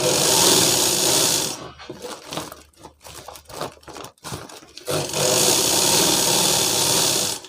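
An electric sewing machine top-stitches a bag sewn from a sack, running loudly in steady whirring bursts at the start and end, with a stretch of clicking handwheel and fabric handling in between.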